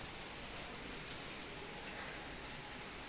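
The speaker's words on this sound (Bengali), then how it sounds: "আবার বৃষ্টি" Rain falling steadily as a dense, even hiss throughout, with no distinct drops or voices.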